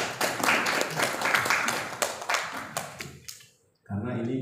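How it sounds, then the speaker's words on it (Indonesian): Audience at a regional government coordination meeting in Banten breaks into applause, a dense spread of claps that fades out, followed by a voice resuming speech. "Beri tepuk tangan untuk kita semua"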